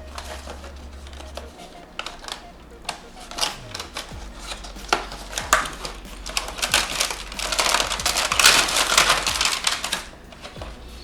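Close-up rustling and crinkling of cardboard and plastic packaging, with scraping, tapping and handling noises as a box of P9 Bluetooth headphones is opened, building to busier crackling.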